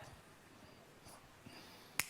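A single sharp finger snap during a church sermon, one crisp crack near the end after faint, quiet room noise and soft low sounds.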